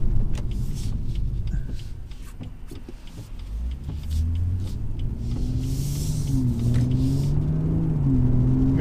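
A 2017 BMW 340i with its 3-litre six-cylinder petrol engine pulls away under power, a deep rumble building into rising, droning engine tones heard from inside the cabin, steady and fairly loud throughout.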